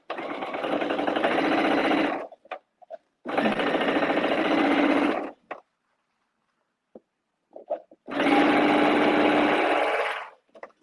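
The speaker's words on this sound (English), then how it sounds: "So I'm just going to sew away." A sewing machine pieces quilt fabric in three loud, close bursts of rapid stitching, each about two seconds long, separated by quiet pauses with faint handling clicks.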